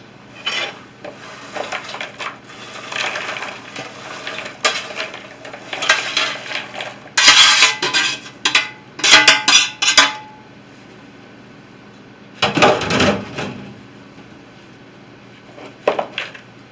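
Pieces of bread for spiced turkey stuffing are combined in a bowl with utensils, giving intermittent bursts of scraping, rubbing and clinking that come in clusters and break up with quiet pauses between them.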